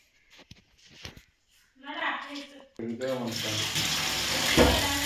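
Tap water running in a kitchen sink while chicken is washed: intermittent splashes and short bursts of flow, then a strong steady stream with a voice talking over it.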